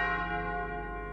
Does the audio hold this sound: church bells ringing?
yes